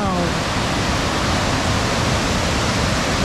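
A rushing waterfall at Lake Tahoe running at high flow, a loud, steady broadband roar of falling water that fills the whole clip without letup.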